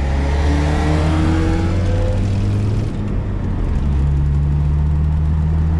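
A 2002 Toyota MR-S with a 1ZZ engine and HKS Sport exhaust revs up loudly, its pitch climbing in rising bands before dropping back to a lower steady idle near the end.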